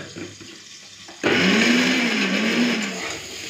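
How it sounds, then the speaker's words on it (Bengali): A blender grinds ginger, garlic and two green chillies into a paste, starting abruptly after a quiet moment and whirring loudly and steadily with a wavering motor pitch before easing off near the end. "এই যে এখানে দিয়ে দিয়েছি আদা রসুন, আর দিয়ে দেবো দুটো কাঁচা লঙ্কা, একসাথে বেটে নেবো।"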